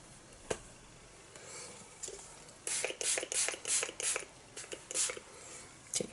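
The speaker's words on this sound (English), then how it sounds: "obviously it's a spray, it's super easy to apply" A K18 Molecular Repair Hair Mist bottle sprayed onto hair in a series of short, close, hissing spritzes in a quick rhythm after a single earlier puff, with no talking.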